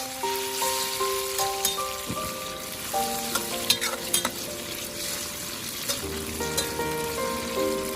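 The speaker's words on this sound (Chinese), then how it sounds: "油热之后下入香干豆腐，再快速的翻炒，把香干豆腐炒香" Dried tofu stir-fried quickly in hot oil in a wok gives a continuous crackling sizzle, with repeated scraping and clinking of a spatula against the pan.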